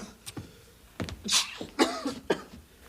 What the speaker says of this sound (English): You mustn't cough like that.